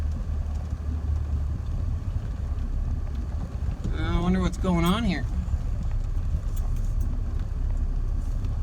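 A Yamaha 225 Moto quad on a sand trail, its engine a steady low rumble with wind buffeting the microphone, while a voice speaks briefly over it midway.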